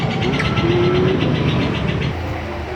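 Cars idle and creep in a traffic jam in Bandung, a steady close engine drone with a brief whine, easing slightly near the end.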